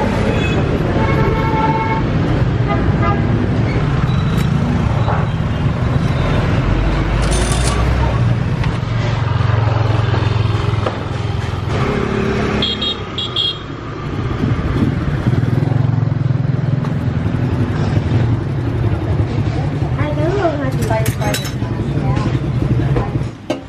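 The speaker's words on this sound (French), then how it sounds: "la première course que j'ai fait en Grab au milieu de la circulation, c'est toujours aussi bruyant" Loud, dense street traffic in Vietnam heard from inside a Grab ride, with motorbike engines droning, repeated car and scooter horns honking, and a voice talking over the busy roar.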